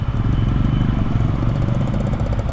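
A Yamaha MT-15 V2 motorcycle is ridden at close range, its engine giving a steady, throbbing rumble with a continuous pulsing beat and no pauses.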